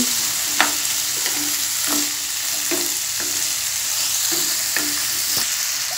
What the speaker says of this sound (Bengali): এই আলুগুলোকে আমি ভেজে নিব